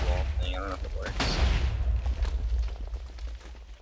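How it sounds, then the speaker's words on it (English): A core cannon explodes in the Overcast Network block game during a tournament match, a heavy low boom followed by rumbling bursts, with voices talking over it. "Blew up their core cannon by accident"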